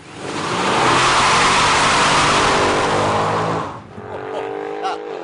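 A sports car engine revs hard and loud for several seconds, then drops back to a lower idle with a couple of quick blips.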